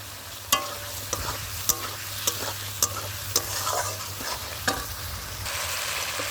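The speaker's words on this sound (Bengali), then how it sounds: "দেখো ডিমের আলুটা একটু ভাজা ভাজা করে নিচ্ছি" Boiled potatoes frying in a pan with egg, salt and oil, stirred with a utensil that scrapes and taps about seven times at irregular intervals over a constant sizzle and low background hum.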